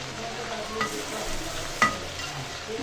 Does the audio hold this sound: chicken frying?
yes